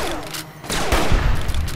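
Laser turrets fire at night in Fallout New Vegas, a loud rapid volley of zapping shots, the dense bursts swelling after a brief quieter gap and continuing steadily to the end.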